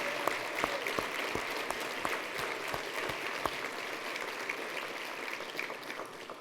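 An audience gives sustained applause for volunteer board members at a housing-network talk. The dense clapping runs steadily throughout, with sharper individual claps standing out.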